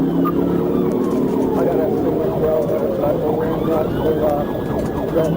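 A state trooper's police siren wails continuously with rising and falling tones during a motorcycle chase, loud and steady over traffic rumble, with a voice partly audible underneath.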